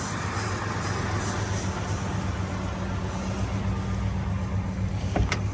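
A Dodge Charger R/T engine runs at a steady idle, a loud, continuous low rumble with one brief click near the end and no talk.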